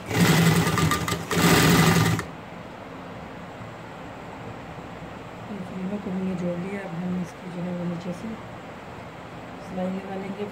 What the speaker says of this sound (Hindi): अब हम इसकी स्लीव्स की जो है वो साइड की सिलाई लगाएंगे।